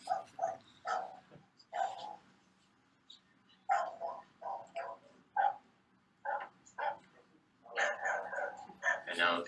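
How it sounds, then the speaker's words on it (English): A dog barks in short repeated bursts, some yipping and whimper-like, moderately close in a quiet room with faint background hum. "We have recording of a dog barking here."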